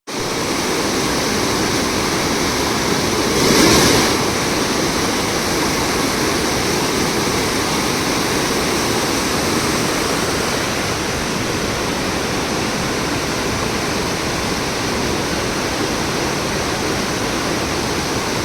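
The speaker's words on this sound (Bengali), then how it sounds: "আর জলের স্রোতটা দেখুন" A strong, steady rush of a fast stream current after heavy rain flows continuously and loudly at close range, with no speech over it.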